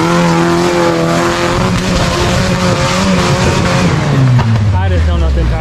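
A Jeep Cherokee engine strains loudly as it drives offroad, its pitch rising and then dropping steadily toward the end, while people talk over the noise.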